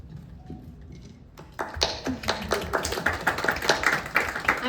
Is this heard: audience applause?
yes